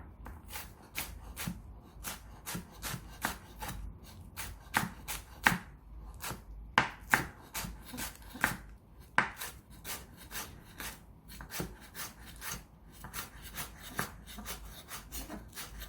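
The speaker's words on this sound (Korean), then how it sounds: "파는 반으로 갈라서 한번더 발라줍니다. 쫑쫑 썰어줍니다." A knife chops green onion finely on a cutting board in quick, uneven runs of crisp taps, close and clear, with brief pauses between bursts.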